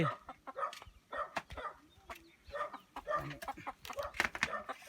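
Chickens cluck and squawk in a mountain village in Laos, a quiet, irregular chatter of short calls that stays fairly distant and soft throughout.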